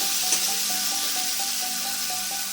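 Chopped tomatoes with salt and spices frying in a pan, giving a steady close hiss of sizzling oil that stays fairly loud and even throughout, with no voices.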